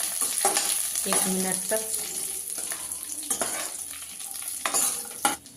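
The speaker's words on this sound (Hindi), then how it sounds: "दो चम्मच किशमिश, इसे भी हम भून लेते हैं" Raisins frying in a pan for carrot kheer, a soft continuous sizzle with intermittent stirring clatters and scrapes, a brief voice speaking over it near the start.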